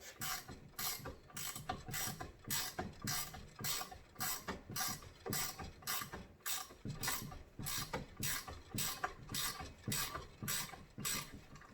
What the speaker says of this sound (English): I'm putting thumb pressure on the top and turning the wrench.